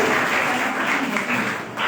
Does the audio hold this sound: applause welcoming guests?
yes